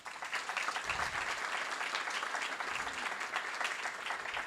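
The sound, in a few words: audience applause at awards event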